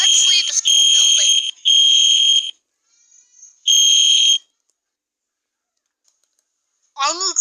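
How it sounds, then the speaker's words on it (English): A school fire alarm rings in loud, shrill electronic bursts that start and stop several times, with short gaps of near silence between blasts; a voice speaks briefly at the start and again near the end. "pulling the school fire alarm when there was no fire"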